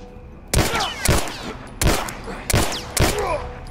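Gunfire in the video game The Last of Us Remastered: four loud, close bursts of rapid shots spaced about half a second to a second apart.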